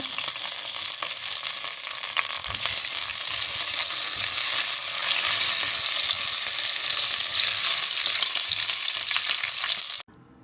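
Curry leaves sizzling in hot oil in a pan while cooking Kottayam-style kappa biryani, a loud, continuous hissing crackle close up, with occasional stirring clinks, ending abruptly.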